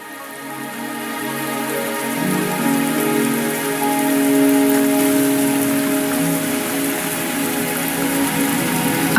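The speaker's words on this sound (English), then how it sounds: "Are you trapped here by the rain?" Steady rain falls in the Wuthering Waves video game, a dense, even patter on surfaces that holds for the whole stretch under a faint tonal backdrop.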